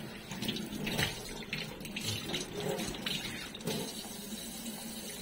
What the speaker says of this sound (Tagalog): Ito naman maganda yung labas ng tubig niya, no.